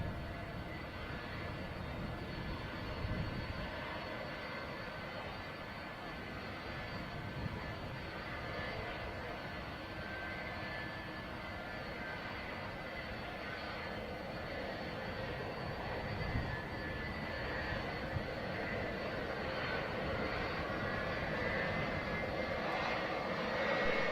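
A departing heavy Boeing 747 jet airliner, its engines a steady broadband roar heard from a distance, holding at a constant level throughout with no talk over it.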